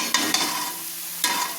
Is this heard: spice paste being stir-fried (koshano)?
yes